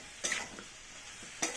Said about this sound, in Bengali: নাড়াচাড়া করতে থাকবো ঢাকা চাপা দিয়ে নাড়িয়ে একটু ভেজে নিতাম